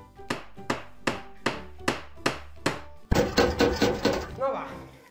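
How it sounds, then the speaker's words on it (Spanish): A hammer strikes a door in a steady series of about seven sharp, evenly spaced blows, followed by a denser clatter of impacts. The sound is loud and close, with no talk over it. "¡Voy a probar con el martillo,"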